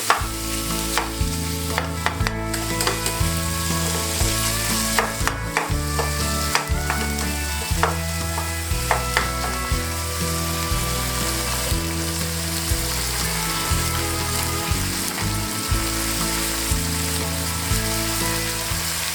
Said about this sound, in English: Stir it up so it's browned on all sides.